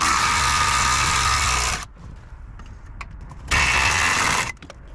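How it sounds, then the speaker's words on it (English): A long breaker bar working the rear brake bolts on a VW Transporter, two loud spells of dense rasping ratchet clicking separated by a quieter pause with faint clatter, close and dominant. "if I didn't have this 3-foot breaker bar, that would be an awful lot more difficult"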